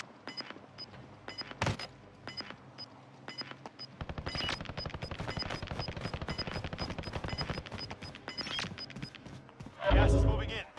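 Rapid bursts of video game gunfire in a battle royale match, sharp repeated shots crackling in quick volleys with a louder blast near the end, sitting under occasional talk.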